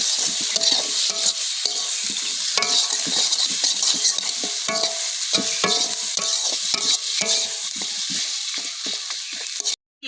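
Ground cumin, pepper and coriander masala stirred briskly in a hot pan, loud continuous sizzling with repeated scraping spatula strokes in an uneven rhythm, close up, ending abruptly.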